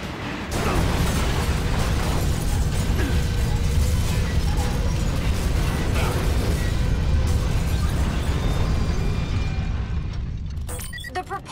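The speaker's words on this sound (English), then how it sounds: "Track is damaged! We're derailing!" A train derailing on damaged track in the video game Vanquish: a loud, sustained grinding and crashing roar of metal with bursts and booms runs continuously for about ten seconds, then cuts off abruptly.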